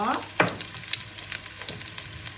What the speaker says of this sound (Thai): ใส่น้ำมันก่อนค่ะ แล้วก็เจียวหอมและกระเทียมนะคะ